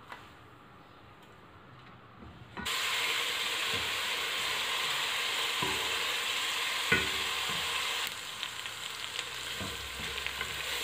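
Three onions fry in oil toward golden in a pan. A quiet start gives way to a loud, continuous hiss of sizzling, with occasional stirring clicks and a slight drop in intensity near the end.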